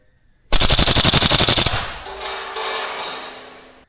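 A VFC AK105 gas blowback airsoft rifle fires a rapid full-auto burst of about fifteen sharp, loud cracks, followed by a few fainter trailing clacks as the magazine empties.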